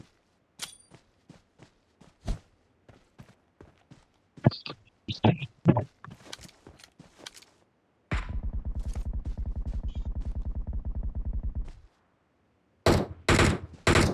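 Gunshots ring out in irregular bursts: scattered single cracks early on, then a sustained rapid fusillade lasting several seconds, followed by a few loud final shots, all at moderate distance with no talk.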